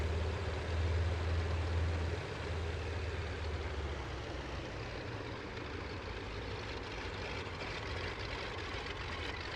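A Ford Trimotor in Microsoft Flight Simulator idles and starts to taxi, its three engines giving a steady low propeller drone with a throbbing rumble that holds even and moderately loud throughout.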